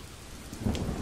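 Rain and a low thunder rumble play in a Halo Reach machinima scene, a faint steady patter with a brief swell of thunder near the end and no voices.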